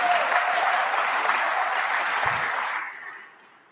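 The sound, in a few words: audience applause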